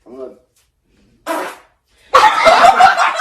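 A comedic fart sound effect blurts out, a short buzzy burst followed by a longer, louder sputtering raspberry with a rippling pulse, standing alone against silence.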